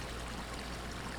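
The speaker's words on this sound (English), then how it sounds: "There was a lot of running water by the trail, and that was really cool." Running water from small waterfalls beside a hiking trail, a steady rushing splash that is loud and close, with no voices.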